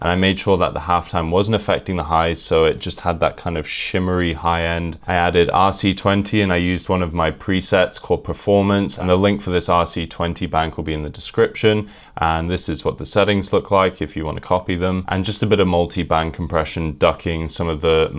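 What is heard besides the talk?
No everyday noises stand out.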